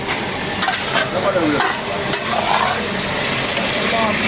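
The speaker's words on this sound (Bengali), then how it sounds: "সিঙ্গারা ভাজা" Singara frying at a roadside tea stall, a loud steady hiss of hot oil with scraping stirs and a busy background, voices chattering faintly underneath.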